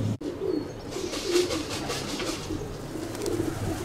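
Racing pigeons belonging to a club president in Thessaloniki cooing repeatedly at close range, soft throaty coos in an irregular rhythm over low background noise.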